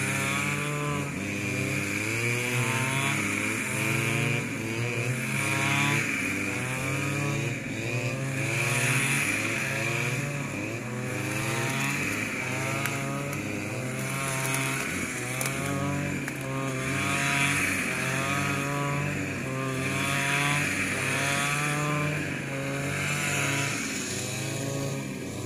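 A water pump engine runs in a rice field, giving a steady, continuous drone with a slightly wavering pitch that holds throughout, unbroken and fairly close, with no talking.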